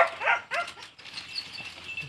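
A snake-hunting dog gives a few short barks and yips in brush outdoors, moderately near, with quieter rustling and faint whines between them.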